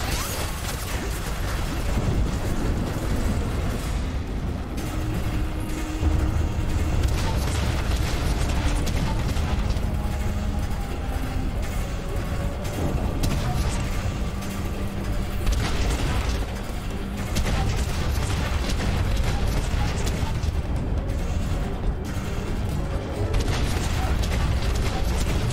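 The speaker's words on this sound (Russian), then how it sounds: "Взрывай цистерну!" A fuel tank blows up in the shooter game F.E.A.R. 3, heavy booming blasts and rumbling gunfire making a loud, continuous, chaotic din throughout.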